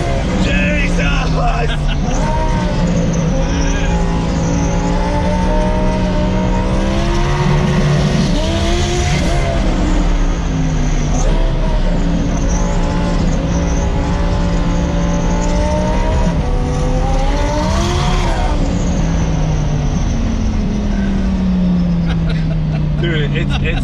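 A twin-turbo Lamborghini accelerates hard on a track, its loud engine roaring and rising in pitch through gear changes, with excited voices talking over the sustained drone.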